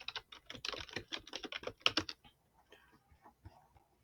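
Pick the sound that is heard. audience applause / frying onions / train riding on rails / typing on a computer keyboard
typing on a computer keyboard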